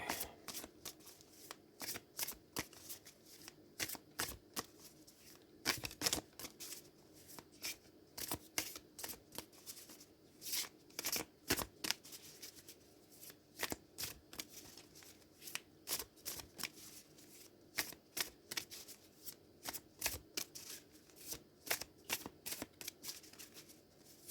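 Tarot cards are shuffled close by in quick, irregular riffling bursts that keep going with short pauses between them, and no one speaks.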